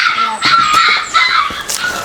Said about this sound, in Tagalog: Yung aso mo, intindi mo, kawawa naman yung tuta mo.